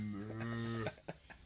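A man imitates a cow at a guitar, one long deep steady moo lasting almost a second, close and loud, followed by faint knocks and rustle.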